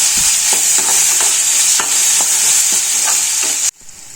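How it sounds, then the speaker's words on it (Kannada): Ginger garlic paste fries in oil for a chicken gravy, a steady loud sizzle with a spoon scraping and stirring in a regular rhythm, cutting off abruptly near the end. "ಅಷ್ಟುವರೆಗೂ ಚೆನ್ನಾಗಿ ಇದನ್ನು ಫ್ರೈ ಮಾಡ್ಕೊಳ್ಳಿ"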